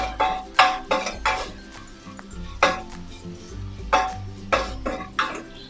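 A spoon scrapes and clanks around a pot of Kerala tattukada-style beef curry with half a teaspoon of turmeric, giving several distinct clattering strokes in an irregular rhythm, close and moderately loud with no talking.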